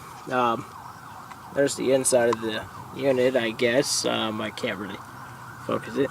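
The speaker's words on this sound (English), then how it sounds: "Pardon the sirens in the background noise" A siren wails in the distance outdoors, its rising and falling tone sitting faintly behind someone talking close to the mic.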